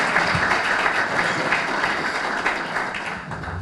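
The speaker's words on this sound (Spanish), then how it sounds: "Un fuerte aplauso para él" Audience applause at an evening book presentation, a dense, steady clapping from a crowd that holds fairly loud and even throughout, with no talking over it.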